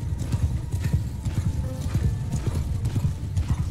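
Cavalry horses gallop in a Mount & Blade II Bannerlord battle, their hooves pounding in a rapid, close, continuous clip-clop with an occasional neigh, loud and steady throughout.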